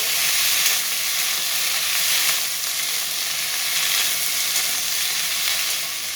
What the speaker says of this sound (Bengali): এবার এতে ভেন্ডি আর আলু দিয়ে দেবো কিছুক্ষণ ভেজে নেব